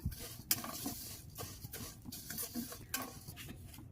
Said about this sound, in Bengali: এর মধ্যে এই সিমুইটাকে আমি দিয়ে দেব। এটাকে দিয়ে এবার আমি ভেজে নেব।